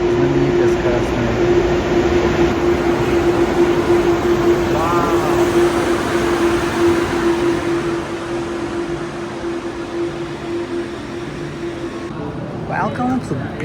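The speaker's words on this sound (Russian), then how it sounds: "Эти китайские поезда, знаменитые скоростные." Chinese high-speed train standing at a station platform, giving a steady loud hum with a sustained mid tone and a faint whine, while people talk nearby throughout.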